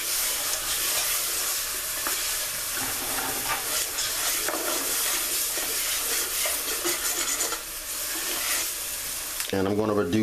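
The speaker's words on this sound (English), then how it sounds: "right before your roux is done, and mine is almost done, we're going to add our vegetables" Chopped vegetables hit a nearly finished roux for seafood gumbo with shrimp, crab meat and okra, giving a loud, steady sizzle with stirring scrapes, close up, before a voice cuts in at the end.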